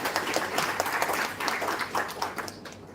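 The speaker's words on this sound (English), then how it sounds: "Let's have a big round of applause" A room of colleagues at a company town hall breaks into applause, a lively patter of many hands clapping with uneven surges and dips, fairly close and with no voices over it.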